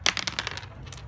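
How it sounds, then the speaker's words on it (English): Several dice clatter and tumble onto a hard surface, a quick burst of sharp, bright clicks that bounce and settle within about half a second, close and fairly loud, with no voices. "the dice landed on the same number"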